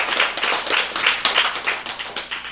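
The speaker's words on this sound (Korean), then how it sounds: "박수!" A crowd claps and applauds steadily for a couple of seconds, a dense, even patter of many hands nearby.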